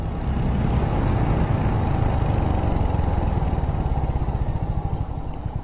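A 2025 Royal Enfield Hunter 350 slipper clutch model being ridden during a rear brake test, its engine holding a steady, close, low rumble the whole way through with no voices.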